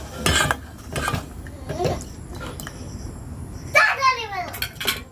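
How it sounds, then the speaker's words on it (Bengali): A small metal pot holding milk and cereal clinks and scrapes in a home kitchen, a few close, bright knocks and rattles spread across a few seconds, with a voice and other speech around them. "এই ছোট্ট হাঁড়িটার মধ্যে দিয়ে দিলাম, এখন একটুখানি জাল দিয়ে নেব"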